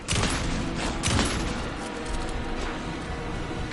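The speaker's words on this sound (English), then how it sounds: "Anderson, pin him down with gunfire for me to get the light on him" Sustained gunfire in the video game Alan Wake 2, a dense, loud burst of overlapping shots with no clear gaps, filling the whole stretch without talk.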